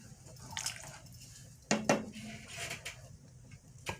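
A utensil stirring bell pepper spaghetti in a pan, producing a few scattered metallic clinks and scrapes, a sharp pair of knocks in the middle, faint and close over a quiet background.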